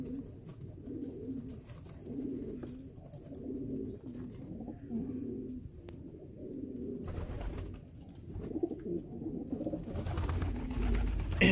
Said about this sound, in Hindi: इनकी बड़ी यूनिक आवाज़ होती है पिजन्स की